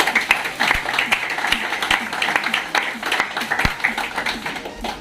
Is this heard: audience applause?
yes